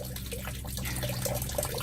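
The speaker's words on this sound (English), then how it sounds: "That's all subsurface water right there." Subsurface water drains out of a French drain system in a yard, flowing with a steady trickle and gurgle that is close and continuous, with no voices.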